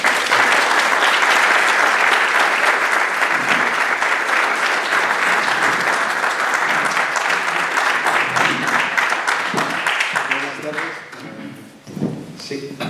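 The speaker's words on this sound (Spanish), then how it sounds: "un gran aplauso de todo el público" A large audience at a cultural round-table event in Laredo bursts into sustained, dense applause that holds steady for about ten seconds, then fades toward the end as a voice begins to speak.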